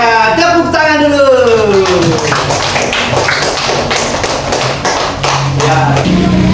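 Students in a classroom clapping their hands together, a burst of dense overlapping claps and taps following a teacher's voice, with talk continuing underneath.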